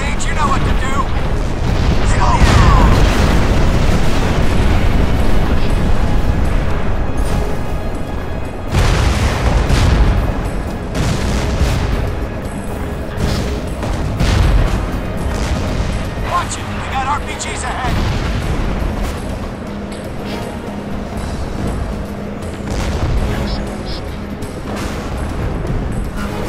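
Heavy booming RPG explosions in the Crysis video game, a battlefield mission with Marines, several loud blasts in a dense barrage amid constant combat din, with voices talking over it.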